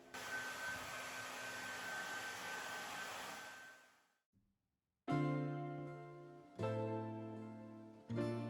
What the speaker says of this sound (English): between each layer I dried it with the dryer to make the process faster